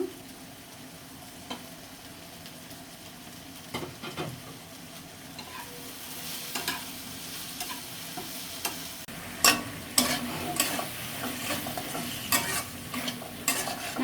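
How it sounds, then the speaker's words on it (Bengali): Onion goes into okra frying in a pan, giving a soft, steady sizzle broken by scraping stirs that grow busier and louder toward the end. "ঢেঁড়স ভাজার মধ্যে পেঁয়াজ দিয়ে দেবো"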